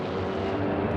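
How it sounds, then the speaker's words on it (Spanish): Droning engines of military aircraft attacking Wheeler Field airfield during the Pearl Harbor raid, a steady dense roar holding at one level throughout, with no speech over it. "Los aviones atacan primero Wheeler Field, la base del norte de la isla"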